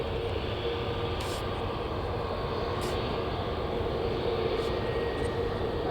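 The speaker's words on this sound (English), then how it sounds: "as this plane is finally taking off." An airliner taking off at Manchester Airport, a steady, loud broadband engine roar sustained throughout, heard from a distance with a constant rumbling wash.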